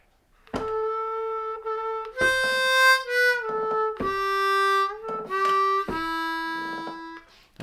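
A C harmonica plays the third phrase of Silent Night, with deep three-draw bends sliding between notes; four clear held phrases ring out close and alone.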